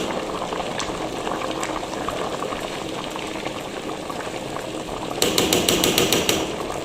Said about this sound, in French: Donc je laisse mijoter, disons 10 minutes.